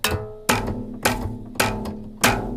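Multi-sampled crunchy string hits played with brushes land about every half second, each a sharp close attack ringing briefly with a pitched tone, five in a row and no talking.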